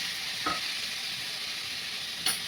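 Two chopped tomatoes frying in a pan with chilli powder while pasta is made, a steady hissing sizzle with two brief stirring knocks, close and without talk.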